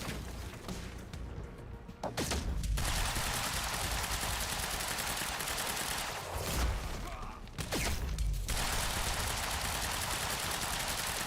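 Continuous heavy gunfire and bullet impacts in the action game Quantum Break, a dense loud barrage broken by two brief lulls, with no talking.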